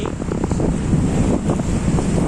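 Arabian Sea surf washes onto the shore at Devbag sangam, a continuous roar of breaking waves mixed with gusting wind buffeting the microphone, loud and close with no voices.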